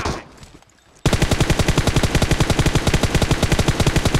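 In the battle royale game PUBG, played on the Sanhok map, a quiet moment gives way to a sudden long burst of automatic gunfire. The rapid, evenly spaced shots run loud and continuous for about three seconds, with no voices over them.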